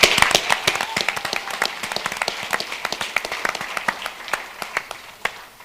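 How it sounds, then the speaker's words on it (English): Audience applause for a city operations and maintenance team, dense clapping from a crowd that holds steady and then thins out toward the end. "Let's give our hard-working O&M team a huge round of applause"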